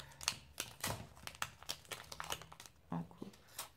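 Scissors cut paper for a cinema-and-comics themed photo album, a quick run of close crisp snips and crinkles in an irregular rhythm, with a voice murmuring alongside.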